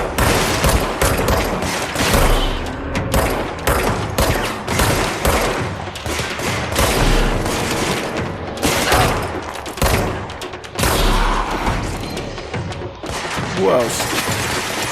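Dense, loud gunfire from the video game Control, rapid bursts and a sustained fusillade of shots with heavy booms across the whole stretch, a voice briefly speaking over the barrage.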